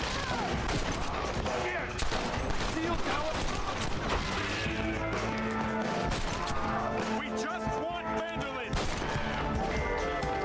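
Gunfire in the western video game Red Dead Redemption, rapid repeated shots layered over game music and sound effects, dense and continuous throughout.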